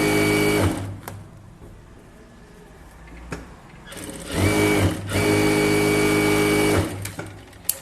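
A sewing machine runs straight stitching on a blouse in loud bursts of whirring, split by short stops and clicks, with no talking.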